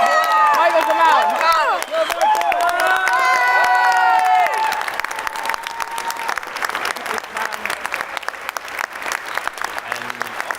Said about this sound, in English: So if you can give him a huge round of applause.